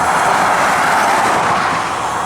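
A passing train rumbles in a steady, dense roar with faint clattering, heard from outdoors near the tracks during a walk and holding constant throughout.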